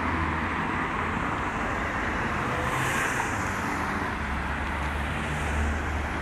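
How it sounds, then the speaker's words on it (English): Steady traffic roars along a busy road as cars accelerate past a stopping tram, a loud continuous wash of engine and tire noise with a swell in the middle. "Cars accelerating to get past the tram."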